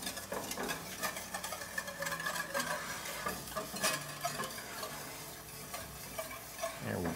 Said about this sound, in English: you put your wine in and you bring it to a boil and you scrape all the brown bits